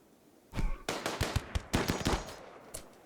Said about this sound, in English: time to get some shooting practice in